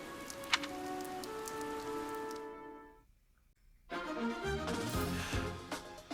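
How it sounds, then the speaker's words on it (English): Steady rainfall in Fire Emblem Three Houses, a continuous hiss of rain mixed with game music tones; it drops out briefly to near silence, then returns with fuller music. "The rain is really coming down now."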